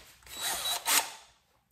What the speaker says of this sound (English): you need to drill in not even a quarter of an inch